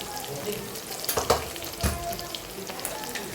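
Turmeric, coriander and cumin frying in hot oil for a sweet jaggery vegetable dish, sizzling steadily up close with scraping stirs and a few louder crackling bursts.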